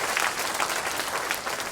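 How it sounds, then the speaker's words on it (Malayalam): Loud, steady applause from an audience at a one-day Christian retreat, Bethsada 2025, held by Reachout Ministry with Charis UAE. The clapping fills the room evenly and never fades. "അവർക്കെല്ലാം ശക്തമായിട്ടൊരു കയ്യടി അടിച്ച് നന്ദി പറഞ്ഞു."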